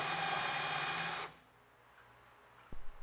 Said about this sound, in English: It only takes a few minutes to drill and countersink the ends of the extrusion.